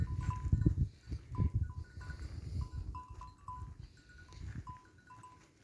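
Sheep and lambs bleat repeatedly out in the countryside as a shepherd's flock rests in the midday heat, several animals calling close by in overlapping, wavering cries, with no talking.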